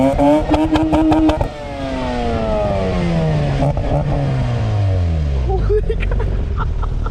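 A Mazda RX-8 rotary engine sounds close and loud, with sharp blips of throttle followed by a high rev that winds down, while people talk over it.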